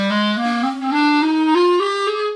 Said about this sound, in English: If we have too much pressure on the reed, it sounds like this.